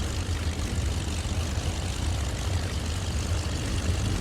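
Messerschmitt Bf 108 propeller engine in Microsoft Flight Simulator, a steady, continuous low drone with a rough, throbbing edge, heard alone.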